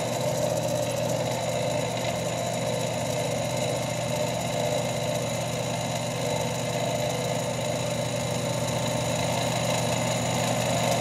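A stone bead spins freely against a wooden polishing wheel on a motor-driven setup, giving a continuous, even machine hum with a steady tonal whine, unchanging and without speech.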